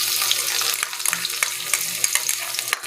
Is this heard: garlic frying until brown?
yes